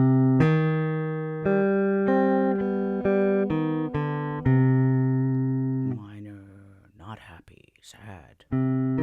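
A guitar plays a short series of ringing plucked notes in pairs forming a minor interval, followed by someone speaking briefly near the end.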